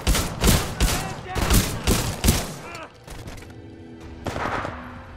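Gunfire in the shooter game Titanfall 2, a rapid series of loud, close bursts over the first half, then sparser, quieter shots with mechanical tones, with some voice chatter mixed in.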